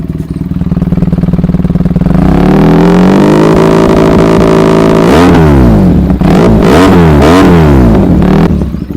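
Benelli 300i TNT motorcycle fitted with an SC Project exhaust, revved loudly up close: the note climbs and holds a sustained high rev, then drops into several sharp, rapid throttle blips.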